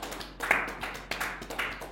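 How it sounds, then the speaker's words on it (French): A church congregation claps faintly and sparsely during a midnight prayer and healing service, with scattered sharp hand claps coming in uneven bursts rather than a full ovation. "Ça s'acclame."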